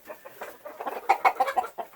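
A flock of chickens with roosters clucks and calls busily at close range, a steady run of overlapping clucks and squawks.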